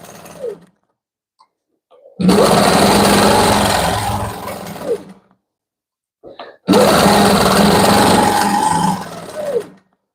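A sewing machine stitches a panel quilt in two long sustained runs of steady whirring, each lasting a few seconds, with short quiet pauses between them and a brief start at the beginning.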